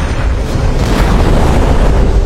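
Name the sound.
private jet exploding in TV series The Blacklist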